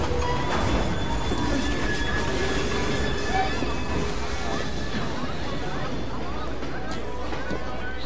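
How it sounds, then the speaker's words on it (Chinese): A train in the video game Assassin's Creed Syndicate, set in Victorian London, rumbles along steadily with wheel noise and faint squeals, heard continuously under game sounds and some talk. "火车要开吗？"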